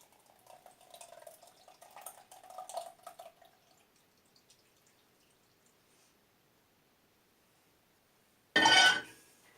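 Homemade cheese curds made from carton milk are strained, with soft watery trickling and dripping early on, a quiet stretch, then a short loud splashing pour near the end.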